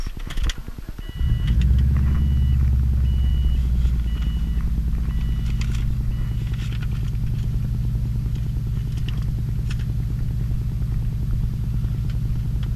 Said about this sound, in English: this is going to be a cold startup on my 2002 Subaru WRX